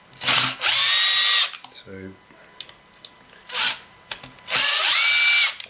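Power drill whirring in bursts as it undoes the bolts on a Kirby vacuum cleaner during a full strip-down, three loud close runs with a rising whine, a ratcheting click between them and someone speaking briefly.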